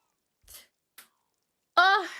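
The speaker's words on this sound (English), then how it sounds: "Wait, I have to sneeze again." Small human sneeze: a couple of soft catching breaths, then a loud voiced burst that trails off, close to the microphone.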